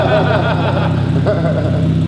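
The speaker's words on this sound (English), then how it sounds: "Sweet, exhaust sounds good" Porsche GT4 engine running through its exhaust, a steady mid-pitched rev and drone held for about two seconds before it cuts off, with a faint voice briefly underneath.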